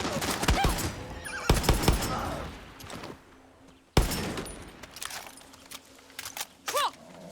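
Gunfire in the video game Far Cry 6 comes as sharp bursts of shots that crack and echo. There are clusters early on and more scattered shots later, mixed with other game sounds.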